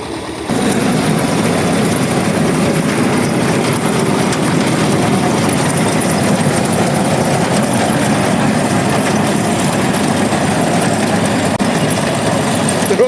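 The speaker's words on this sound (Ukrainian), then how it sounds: "Приїхав наш тракторець" A tractor engine rumbles steadily and loudly throughout at a potato field, a constant low mechanical drone with no pauses and no talking.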